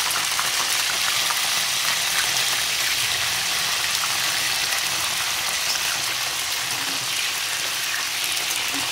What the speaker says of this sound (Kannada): ಒಂದು ಸ್ವಲ್ಪ ಎಣ್ಣೆ ಕಾಯಕ್ಕಿಟ್ಬಿಟ್ಟು ಈ ಬದನೆಕಾಯಿ ಹೆಚ್ಚಿಟ್ಕೊಂಡಿದ್ರಲ್ಲ, ಅದನ್ನು ನಿಧಾನವಾಗಿ ಅದರಲ್ಲಿ ಹಾಕಿಬಿಡಿ.